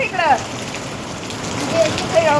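Steady rain drumming hard on tin roof sheets, loud and continuous, with faint whistling tones now and then in the background.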